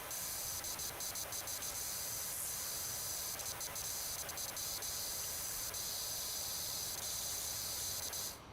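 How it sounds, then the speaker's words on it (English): Pressure washer spraying water onto a trellis in the PowerWash Simulator video game, a steady hissing spray with brief fluttering breaks, held close and loud for the whole stretch before cutting off at the end. "when you're spraying the trellis, you can hear the water flutter"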